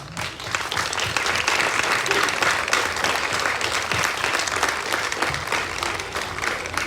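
Applause rises from an audience at an elementary school fifth-grade celebration, a steady, dense clapping that lasts several seconds at a fairly constant level.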